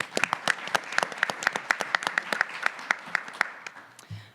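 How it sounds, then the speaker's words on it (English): A business breakfast audience applauds to welcome a speaker: a dense, steady round of clapping that fades out after about four seconds. "Give a round of applause."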